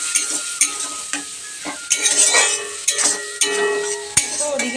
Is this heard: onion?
yes